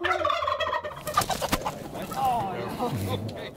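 Turkeys and chickens handled during a veterinary outreach in a farmyard, with close clucking and gobbling calls mixed with people talking and handling noise.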